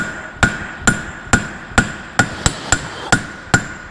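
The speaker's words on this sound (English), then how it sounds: "Overlapping hammer blows, run up each of those edges and away flatten." A farrier's hammer strikes metal horseshoe edges to flatten them, nine crisp, ringing blows in a steady, fairly quick rhythm, close and loud with no talk.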